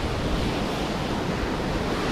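Waterfall at Rattlesnake Creek, a steady, dense roar of rushing water close by, continuous and unbroken, with some wind buffeting the microphone.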